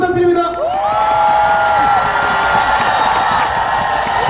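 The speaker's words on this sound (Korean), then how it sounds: "두 분께 큰 박수 부탁드립니다" At an outdoor festival concert, a crowd cheers and whoops with applause, the sound steady and fairly loud, sweeping whistle-like tones rising over the noise.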